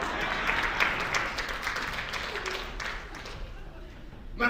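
Church congregation applause, a steady wash of clapping that fades toward the end, with a voice speaking over it.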